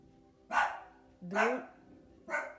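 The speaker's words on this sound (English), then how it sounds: "oh, that's my dog." Three sharp dog barks spaced about a second apart, fairly close and loud against a quiet background.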